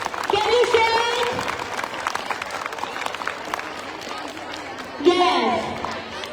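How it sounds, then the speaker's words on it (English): A hall full of children aged six to eight claps and cheers in a sustained burst, with loud voices shouting over the clapping and a renewed shrill cheer rising near the end. "Can I have the thunderous round of applause?"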